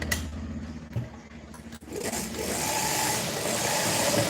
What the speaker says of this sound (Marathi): आणि परत एक आपल्याला लेस शिलाई देऊन घ्यायची